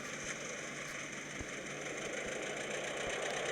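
In the video game MadOut, a tractor engine idles with a steady, continuous rumbling hum and a faint low knock. The level holds even throughout and no one speaks.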